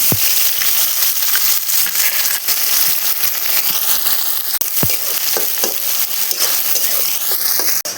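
Loud, steady sizzling of onions frying in hot oil fills the whole stretch, with occasional sharp clicks and stirring scrapes, no voices.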